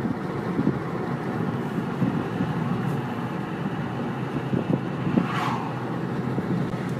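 A car rolls slowly in gear with a steady, close engine and road rumble inside the cabin. It sounds continuous, with a brief higher whoosh partway through and no talking.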